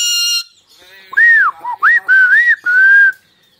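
An alexandrine parrot gives a series of clear, loud whistled calls, rising and falling slides in several short bursts, close to the listener with no talk over them.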